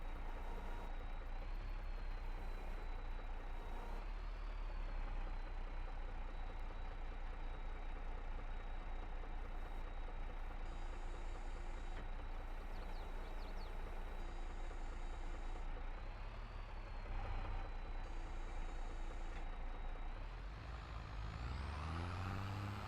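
Farm tractor engine running steadily while reversing, a loud continuous diesel rumble with a rising high whine and brief tonal beeps, the engine revving up near the end.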